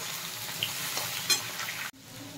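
Potato and chopped pointed gourd frying in hot oil in a pan, a steady soft sizzle with a few scraping stirs, ending in a sudden drop to quieter sizzling.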